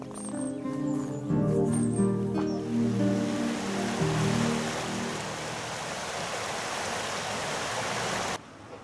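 River Bradford flowing beside a riverside path near Alport in Lower Lathkill Dale, a continuous broad rushing of water at moderate level, with a few bird calls and tonal sounds early on, ending abruptly.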